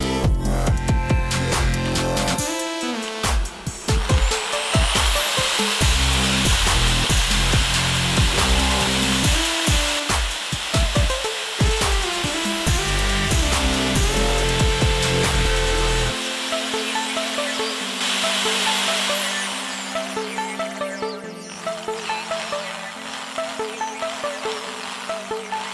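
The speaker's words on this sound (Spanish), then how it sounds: "le daremos al taladro manteniendo una tensión uniforme en este hilo" A power drill runs at full speed twisting clapton wire, a loud continuous whirring hum with rubbing friction, ending in a lower, steadier drone with short rhythmic pulses.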